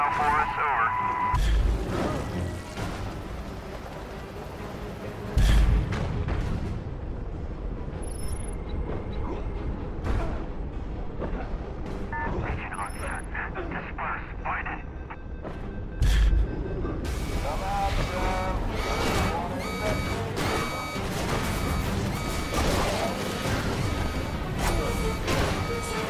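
Heavy explosions from airstrike fire support in the video game Prototype boom and crash at intervals, with several sharp blasts over a continuous rumbling battle din and radio chatter.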